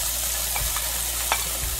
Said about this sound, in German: Etwa eine Minute später können wir auch schon die Zwiebeln und den Knoblauch dazu geben